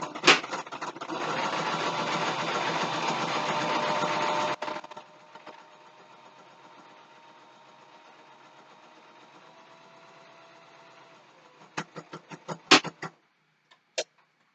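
A sewing machine runs steadily for several seconds while stitching the channel of a drawstring bag, then stops, leaving a quiet hum before a few sharp clicks and handling knocks near the end.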